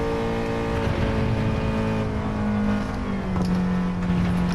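A Nissan 370Z fitted with aero parts and added power accelerating on a race track, a loud continuous engine drone with the pitch climbing steadily, heard from inside the car.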